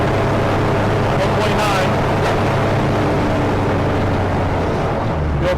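A propeller aircraft engine runs steadily just after start, producing a constant droning hum with a deep low rumble. Someone speaks briefly over it.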